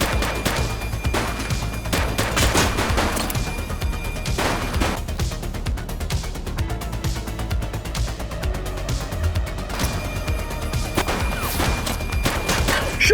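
Dense in-game gunfire from the police game The Precinct, a loud continuous fusillade of overlapping shots and crashes filling the whole stretch without pause.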